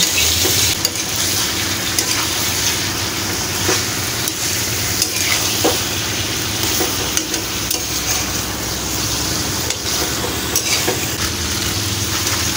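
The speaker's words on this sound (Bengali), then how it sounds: "আমরা এবার মাংসটা দিয়ে দিলাম। এবার হালকা নেড়ে চেড়ে দেব সুন্দরভাবে।" Native country chicken stirred in a frying pan, a steady close sizzle with soft scraping of the spoon running through the whole stretch.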